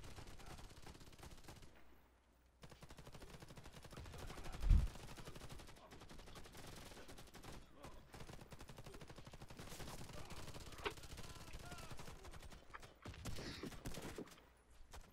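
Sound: gunfire in Warface video game

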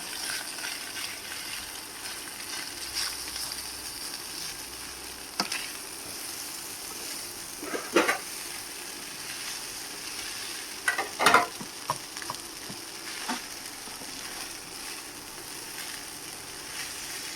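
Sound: rice being added and fried with egg in a pan

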